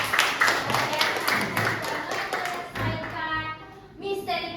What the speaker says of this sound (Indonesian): Kita tepuk tangan dulu ya buat diri kita.